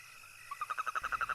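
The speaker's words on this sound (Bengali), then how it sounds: "হঠাৎ হঠাৎ ব্যাঙ ডাকছে।" Frogs croaking on a moonlit full-moon night along a village road, a fast run of about ten short, evenly spaced calls rising out of near silence and fairly close.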